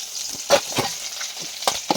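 Fish taken from the fridge frying in hot oil until crisp and reddish, a dense close sizzle with bursts of popping and occasional scrapes of a utensil in the pan.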